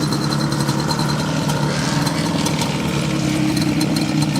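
A showroom-new 2002 Yamaha Banshee 350 ATV idles steadily nearby, a dense, even two-stroke drone with no throttle changes and no voices.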